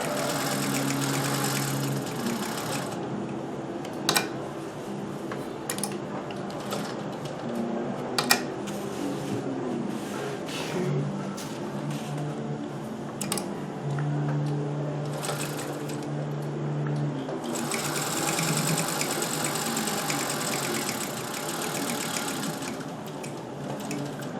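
A motor-driven Singer 201K sewing machine, its motor recently rebuilt, runs at a steady whirring hum with rhythmic stitching clatter, close up, speeding and slowing over about twenty seconds with a few sharp clicks.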